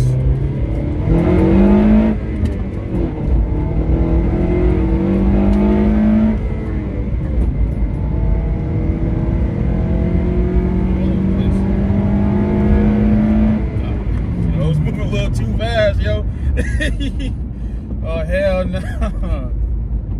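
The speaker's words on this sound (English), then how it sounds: "cold start, it's a little louder" A modified car exhaust on a cold start, louder than usual: the engine idles and revs up and down, its exhaust note rising and falling loudly, with a voice talking near the end.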